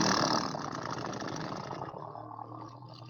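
A person trills their lips to imitate a motorcycle engine as a lip warm-up exercise, a buzzing rumble that starts loud and gradually fades over a few seconds, with no other voices.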